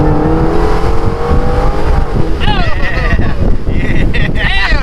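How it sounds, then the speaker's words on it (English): A Dodge Hellcat Redeye at full throttle on a dyno roars loud and close, its pitch climbing steadily, with wind buffeting and voices faintly underneath. "I'm gonna give it gas to the floor"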